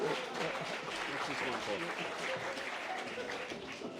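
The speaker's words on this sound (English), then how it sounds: "Ladies and gentlemen, big round of applause." A crowd at the First Nations Media Awards applauds steadily, a dense wash of clapping at moderate distance with some voices mixed in underneath.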